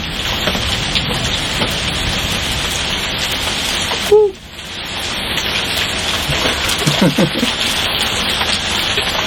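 Hailstones strike the ground in a dense, steady patter that holds loud and unbroken throughout, with a brief sharp knock about halfway through.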